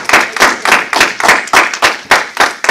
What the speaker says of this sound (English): So get Almighty YAH hand clap praise.